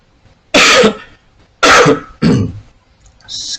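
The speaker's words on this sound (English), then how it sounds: "Excuse me for the cough" Three harsh coughs burst out close and loud, separated by short pauses, then a faint high-pitched noise follows.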